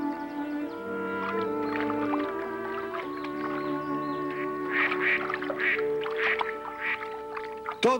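Repeated duck quacks, fairly close and loud, come in irregular bursts over a steady tonal background, busier toward the end.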